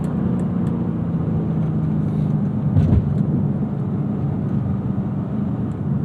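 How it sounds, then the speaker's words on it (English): A 2011 Chevrolet Camaro SS with its front-mounted engine drones steadily while driving, a continuous low rumble with road noise and a brief swell near the middle, heard alone and close. "That engine being in the front,"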